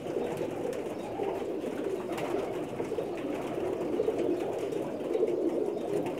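Pakistani pigeons cooing steadily and closely, a continuous, dense, low murmur of overlapping coos that goes on throughout without pause, with no one speaking.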